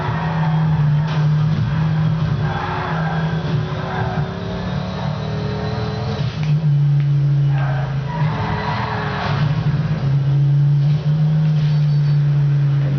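A car engine in the Midnight Club LA video game revs and drones continuously while driving downhill, with shifting engine pitch and faint tire skids, loud and steady throughout.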